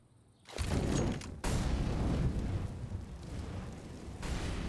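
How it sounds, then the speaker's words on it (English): Incendiary grenade thrown during a professional Counter-Strike match: a sudden loud burst, then a steady, dense roar of fire that holds for several seconds with a brief break partway through. "Perfectly timed incendiary from Simple"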